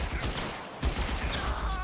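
Rapid gunfire from the video game L.A. Noire, a dense burst of shots with a sharp crack near the middle, loud and close over constant game noise.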